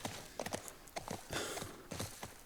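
Horse hooves clip-clopping at a canter in The Last of Us Part 1, a brisk rhythmic run of close, clear hoof strikes on the ground with no talking.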